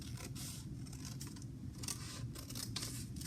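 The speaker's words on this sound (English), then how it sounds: "So I'm going to take my scissors and cut" Scissors snipping through paper to cut out triangles for a paper Chinese dragon craft, a steady run of close, crisp cutting strokes with no talking.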